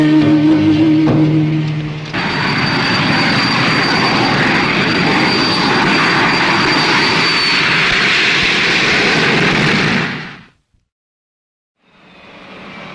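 An airplane arriving at Nairobi airport, a loud sustained roar of engines with a steady high whine, holding for about eight seconds before cutting off abruptly, then returning faintly.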